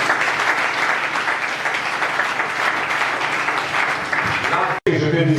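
Church congregation applauding and cheering for the Lord during a Sunday morning service, a dense, sustained wash of clapping and voices that cuts off briefly near the end.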